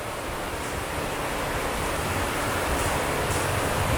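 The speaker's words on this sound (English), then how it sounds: "almost right away you can hear the rapids" River rapids rush steadily beside an off-road trail in North Georgia, a dense, continuous roar of moving water with no voices.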